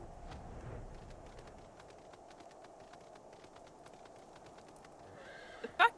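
A horse in Final Fantasy XIV clip-clops through a galloping stretch with soft, rapid hoofbeats at low volume, ending in a couple of sharper louder hits, with no talking.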